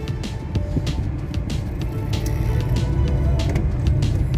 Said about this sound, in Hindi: मैंने लगाया पहला गियर, गाड़ी को मैं बढ़ाता हूँ आगे